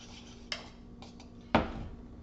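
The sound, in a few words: stirring butter into thick lemon filling in a pot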